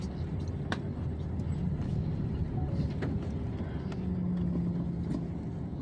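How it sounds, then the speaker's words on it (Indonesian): A snow-clearing vehicle works a winter street in Saint Petersburg, Russia, its steady low engine rumble filling the scene with a passing drone and faint scrapes and clicks from nearby traffic. "Nih, mobil pembersih salju."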